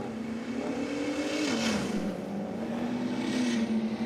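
A Ford Falcon drag car accelerates hard down the strip at a night meeting, a loud engine roar climbing in pitch, dipping briefly at a gear change, then rising again.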